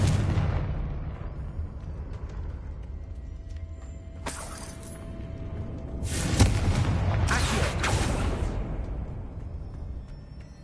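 Magical blasting spell explosions from the video game Hogwarts Legacy go off as a series of sharp booms with crackling debris, one burst followed a couple of seconds later by a louder pair of blasts.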